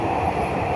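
Steady, loud rumble of a driverless metro train running underground, heard from inside, a continuous low roar with faint rattling.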